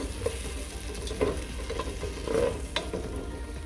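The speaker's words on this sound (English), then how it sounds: "Just stir it." A spoon stirring coconut milk and cornmeal in a pot, heard as soft, irregular scraping and sloshing with faint sizzling underneath, quiet and close, with no voices.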